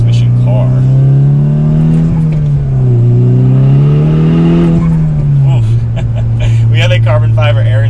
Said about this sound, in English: We have a carbon fiber air intake on this one, and that makes some good turbo noises